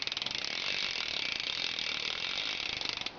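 A BMX Odyssey V3 rear hub on a Sunday bike buzzes with rapid, continuous ratchet clicking as the wheel spins freely, loud and close, with a dense, even rattle that lasts the whole time.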